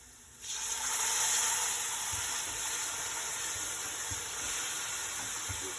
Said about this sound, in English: And then I'm going to add my 600 ml of plum tomatoes that are pureed.